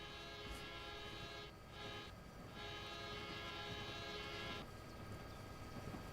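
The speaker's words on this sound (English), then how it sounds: "Okay, I hear the train. It's coming." A Union Pacific freight train in Train Simulator Classic approaches through Massachusetts, a steady rumbling roll with a sustained horn blast that cuts off and sounds again, loud and continuous with no talking.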